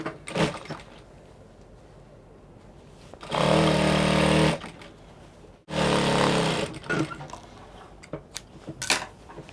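A sewing machine stitches fabric and lining together in two loud, steady bursts of a couple of seconds each, separated by a short pause, with soft handling noises around them.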